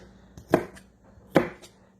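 A knife chops through onions on a cutting board at home, two sharp, close thunks a little under a second apart, with faint lighter taps between them.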